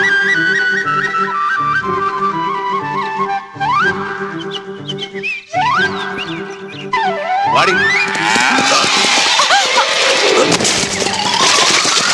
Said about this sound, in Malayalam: ആ അസത്ത് പശു എവിടെ നോക്കട്ടെ